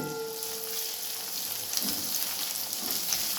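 Onions that were already fried go back into hot oil for biryani and sizzle steadily, a close, continuous crackling hiss with soft stirring scrapes.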